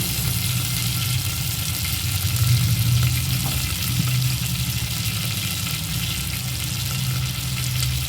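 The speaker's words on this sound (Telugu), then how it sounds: "కొంచెం పచ్చిశనగపప్పు, కొంచెం మినప్పప్పు. ఇవన్నీ తాలింపుకి వేస్తే చాలా బాగుంటాయి" Chana dal and urad dal fry in hot oil for a tempering, giving a steady close sizzling hiss with faint stirring and no speech.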